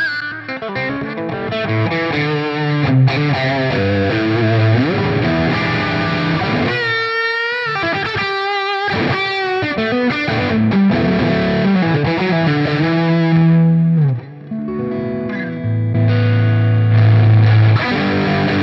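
Electric guitar through a Marshall Plexi-style amp on its classic channel at lower gain with no boost, playing a continuous loud, mildly driven riff with chords and single-note lines, alone and steady.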